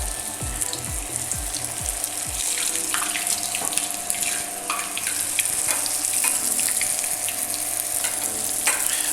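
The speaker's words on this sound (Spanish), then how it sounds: "vamos a freír las empanadas que hicimos con relleno de requesón. Vamos a colocarlas en aceite caliente." Cheese-filled empanadas of thin layered pastry fry in hot oil with a steady, bright sizzling hiss throughout, preceded by a few quick low bubbling glugs at the start, close and loud.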